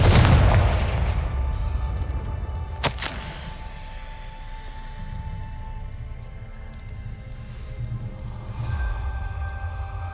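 Confringo fire spell in Hogwarts Legacy bursts as a loud, booming explosion that opens the clip, followed by a sharp crack near three seconds and a lingering rumbling tail beneath ambient game sound.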